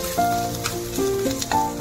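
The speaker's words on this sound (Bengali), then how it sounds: "এটাকে আমি দিয়ে 2 মিনিট এরকম করে নাড়াতে থাকবো" Grated potatoes and spices frying in a pan while being stirred, a close steady sizzle with brief tonal squeaks from the utensil.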